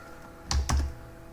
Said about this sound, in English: before I finish typing this